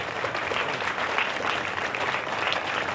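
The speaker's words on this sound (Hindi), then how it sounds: "खड़े होकर जोरदार तालियां, दूर तक आवाज जानी चाहिए।" A village crowd stands and claps loudly to honour a local daughter, a dense, continuous roar of applause at even volume throughout, with no voices rising above it.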